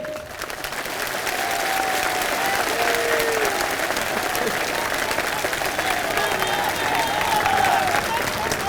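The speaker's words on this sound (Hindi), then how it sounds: "तो सबसे पहले एक बार जोरदार तालियां हमारी माताओं बहनों के लिए।" A large crowd at an outdoor political rally breaks into sustained, dense applause. The clapping is loud and even and keeps going throughout, with faint voices mixed into the din.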